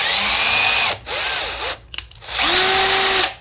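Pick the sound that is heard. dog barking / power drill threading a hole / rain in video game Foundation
power drill threading a hole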